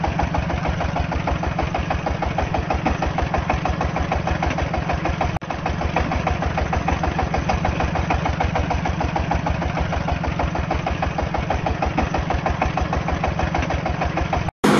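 A six-row garlic planter machine runs steadily and continuously, its engine giving a loud, even, throbbing idle with fast regular pulses throughout and only a brief break near the end.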